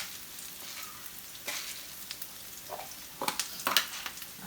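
Garlic and ginger browning gently in a pan for a chouchou dish, a soft, steady sizzle with a few brighter crackles and stirring scrapes toward the end, quiet and close.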